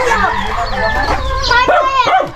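Native chickens cluck and squawk close by in a rural yard, loud and busy throughout, with a voice talking over them.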